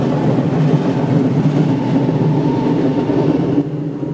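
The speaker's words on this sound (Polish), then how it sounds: "Przed muzeum panuje nieustanny ruch pociągów." Trains pass in front of a railway museum with a steady, loud rumble and rolling rail noise, close and continuous, easing off slightly at the end.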